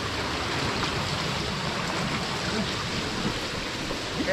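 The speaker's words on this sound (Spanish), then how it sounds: "Hay ratos que cae más agua y no puede pasar." Water pouring and discharging from a canal beside a via ferrata in Cuenca, a steady broad rushing roar with no break, close and fairly loud.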